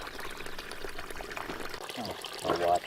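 Water pouring and trickling from a fenced spring into a bottle outdoors, a continuous splashing flow that rises in pitch and loudness near the end as the bottle fills.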